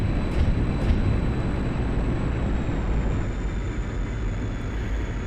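A MiG-21 Bis jet taking off in the DCS flight simulator, its engine a loud, steady broadband roar with a faint high whine, sustained unbroken and close throughout, with no voices.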